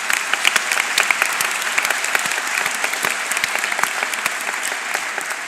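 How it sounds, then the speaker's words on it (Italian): Sustained applause from a conference audience, dense crisp clapping from many hands at an even level throughout, fairly near and with no voices over it. "chiedo a tutti voi un applauso per queste persone"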